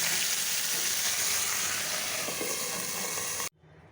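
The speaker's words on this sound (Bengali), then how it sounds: "এখন ভেজে দিই" Chicken fries in a pan with spice masala and a little gravy over reduced heat, giving a steady broad sizzle close by that cuts off abruptly near the end.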